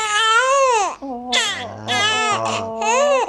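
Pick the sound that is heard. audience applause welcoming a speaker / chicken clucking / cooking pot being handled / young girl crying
young girl crying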